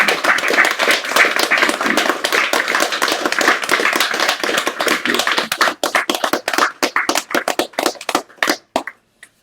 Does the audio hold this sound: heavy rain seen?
no